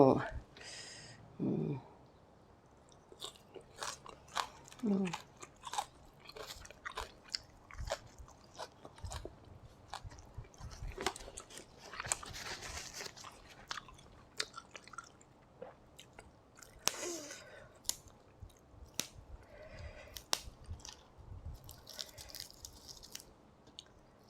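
Someone chews and crunches fresh vegetables eaten with fermented soybean chili paste, with intermittent close-up bites and mouth sounds over about twenty seconds while someone talks at times.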